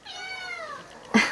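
A cat meows in a long, drawn-out, falling cry, close and moderately loud, followed by a brief sharper sound at the end; it is a grumpy tomcat that growls and picks fights with a white cat.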